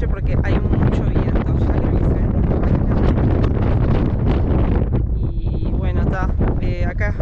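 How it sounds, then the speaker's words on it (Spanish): Strong wind buffeting the microphone outdoors, a loud rough roar with gusty rumbling that rises and falls, with voices talking over it. "hay mucho viento"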